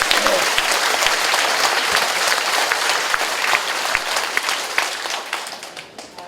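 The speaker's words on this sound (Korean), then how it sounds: "박수 한번 주세요." An audience at a sales briefing session claps loudly and continuously, a thick crackle of many hands that gradually thins and fades near the end.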